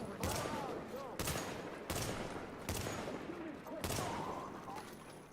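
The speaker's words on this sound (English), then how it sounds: "Six shots to put one red guy down." Rhino Special revolver firing in The Division video game, six sharp shots spaced about a second apart, each with a ringing tail over game ambience.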